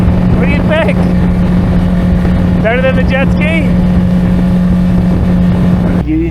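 A motorboat engine runs at a loud, steady drone out on the water with wind rush throughout, while a few high-pitched voices chatter over it near the middle.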